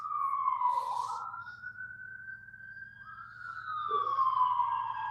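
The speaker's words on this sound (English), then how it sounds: "got some sirens in the background" A siren wails in the distance, its rising and falling tone sweeping steadily over a low rumbling background hum.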